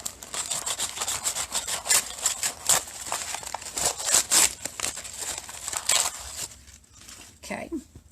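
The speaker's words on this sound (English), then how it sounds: "let me get rid of this excess stabilizer." Excess embroidery stabilizer torn away from the hooped fabric in a run of rough, scratchy ripping strokes, close and fairly loud, with a quieter pause near the end.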